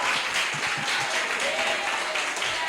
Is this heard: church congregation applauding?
yes